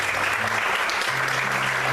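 Congregation applauding during a church service, a steady dense wash of clapping filling the space, with faint low tonal hum from music or amplification underneath.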